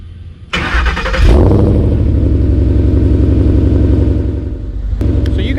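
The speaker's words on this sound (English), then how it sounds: "I know I can't talk about an exhaust without, of course, starting it up for you guys." A 2011 Ford Mustang GT with an aftermarket exhaust cranks and fires up, its engine catching with a loud burst and then settling into a deep, steady, rumbling idle close by, with a brief rev near the end.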